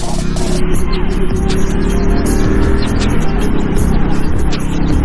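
Large vehicle approaching head-on along a forest road, heard from a moving vehicle amid steady loud engine and wind rumble that swells gradually with no clear pass.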